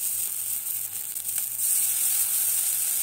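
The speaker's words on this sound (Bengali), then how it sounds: "আমার পেঁয়াজ ভাজা হয়ে গেছে, এখন রসুন বাটা দিয়ে দিচ্ছি" Onions and garlic paste frying in a pan for a spiced gourd and goat meat curry, a steady close hiss that grows slightly louder partway through, with no talking.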